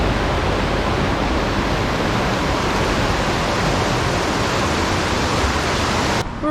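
Rushing River Conwy in flood near Swallow Falls in Snowdonia, a loud, steady broadband roar of churning whitewater filling the whole clip without pause, close and continuous.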